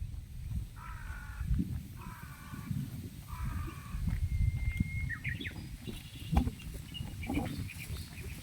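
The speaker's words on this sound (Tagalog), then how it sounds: "Mga uwak po tayong nakikita dito." Crows caw outdoors near a dumpster area in Japan, a few repeated harsh calls in short bursts over a steady rumble of outdoor background noise.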